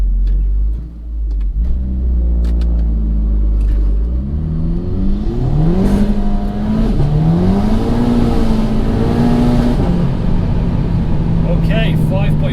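A tuned 417 bhp VW Golf GTI Edition 30, front-wheel drive, launches hard uphill, engine rising through gears in loud close revving sweeps with brief shift dips over roughly twelve seconds.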